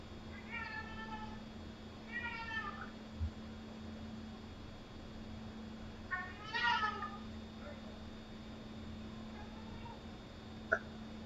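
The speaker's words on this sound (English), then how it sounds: "That's my cat." A house cat meows a few times indoors, each call a short harmonic cry with quiet pauses between, set against a steady low electrical hum and faint background noise.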